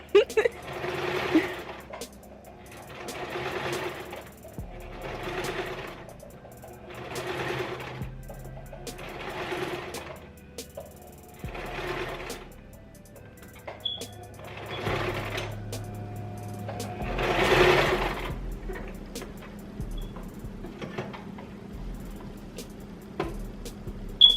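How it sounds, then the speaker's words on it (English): A sewing machine runs in repeated bursts of rapid stitching, about eight runs separated by short pauses, close and steady with faint background hum. "I'm gonna give y'all a little sewing machine ASMR"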